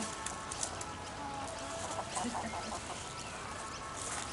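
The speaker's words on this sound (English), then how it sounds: "Crazy chickens." Chickens cluck and murmur amid a dense, noisy background, the calls scattered and moderately distant rather than standing out clearly.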